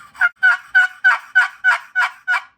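A turkey friction call, made by rubbing two surfaces together, gives eight quick, raspy yelps in an even rhythm. The yelps are loud and close, with no talk over them.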